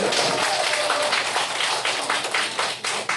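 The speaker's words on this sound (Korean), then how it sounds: "박수 한번 쳐봐" Listeners at a lecture in a Korean training course clap together in a thick, continuous patter of many hands, loud and even throughout the short stretch, with slight pulsing in intensity near the end.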